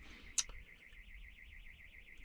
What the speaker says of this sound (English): Ignore that alarm, it's not anything to do with me.